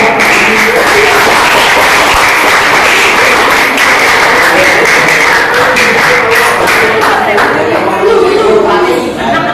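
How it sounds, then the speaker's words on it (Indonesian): Applause from a classroom during a teacher-training performance lesson: a dense, steady wash of many hands clapping at close range, mixed with students chattering throughout. "tepuk tangan dulu guys"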